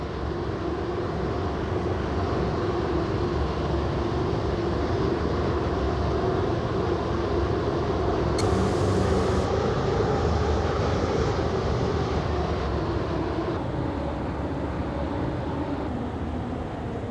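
A double Pacer diesel multiple unit in a train simulator game, running between Benton and Greenslade, gives a steady, loud engine drone and rumble that lasts throughout, with a brief higher-pitched tone partway through and no talk.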